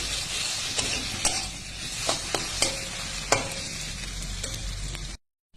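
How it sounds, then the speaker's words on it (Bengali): Dates, raisins and cashews stirred in a hot pan for mango chutney, with a steady sizzle and repeated spoon scrapes and taps, close and fairly loud, ending abruptly in silence. "আর দিয়ে দিচ্ছি খেজুর, কিশমিশ আর কাজু বাদাম। ভালো করে নাড়াচাড়া করে নিই।"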